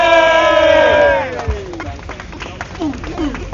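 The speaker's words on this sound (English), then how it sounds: "Everyone give them a round of applause, please" Crowd at a Downing Street rally against digital ID cheering and whooping loudly, the cheer fading after about a second into scattered claps, shouts and murmuring babble.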